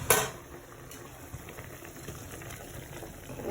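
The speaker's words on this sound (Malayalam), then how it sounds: "ഇതാ നമ്മളെ കറിയൊക്കെ ഇതാ തിളച്ച് വെന്തിട്ടുണ്ട്" Curry with ginger, garlic and slit green chillies boils in a pot: a soft, continuous bubbling and popping close by, after a brief knock at the start.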